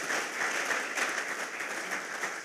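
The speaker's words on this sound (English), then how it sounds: "Shall we do a round of applause for all the schools," An audience applauds at a school sports launch event, honoring the participating schools, with steady, dense clapping throughout and no talk over it.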